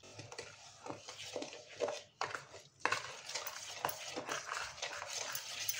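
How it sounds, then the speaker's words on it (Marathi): Spoon stirring buttermilk into semolina batter for appe in a bowl, repeated scraping and sloshing strokes in an irregular rhythm, close and fairly quiet. "आता मी ताक आणि रवा सगळं मिक्स केलेलं आहे व्यवस्थित."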